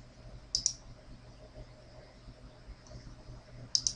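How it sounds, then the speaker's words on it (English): A computer mouse clicks on a menu item in a quiet room, two crisp double clicks about three seconds apart, close and clear over faint hum. "clicking on the menu item"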